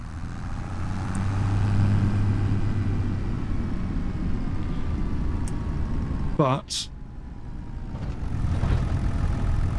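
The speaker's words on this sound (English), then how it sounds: "So we're in 4 high, and I'm just going to throttle it." Tractor engine in Farming Simulator 25 in 4 high, a steady low rumbling drone that holds under throttle with a brief dip, with someone talking over it throughout.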